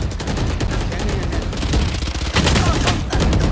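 Rapid gunfire from the Valorant video game, a dense continuous burst of shots filling the whole stretch, with faint talk blended underneath.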